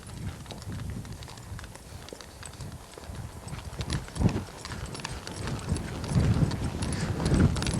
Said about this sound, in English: I'm going to square trot the horse.